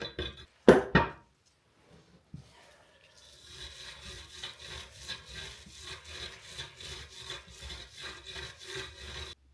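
Metal pliers scrape and grind rhythmically against a stuck screw on a rusty wood stove in an abandoned cabin, a run of repeated rasping strokes after a few sharp clicks.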